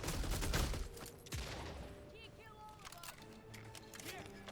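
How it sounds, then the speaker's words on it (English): Enemy gunfire in the video game Redfall, a fast burst of shots up front followed by scattered reports and game effects continuing throughout. "Like, where is he shooting me from?"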